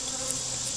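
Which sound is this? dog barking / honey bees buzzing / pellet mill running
honey bees buzzing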